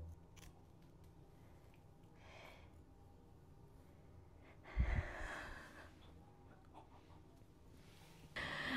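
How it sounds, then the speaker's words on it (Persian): Scissors work through hair during an at-home self haircut, quiet close snips with one louder crunch midway and a brief rustle near the end. "قیچی رو اینجوری میکنید داخل و این شکلی میکشید بیرون"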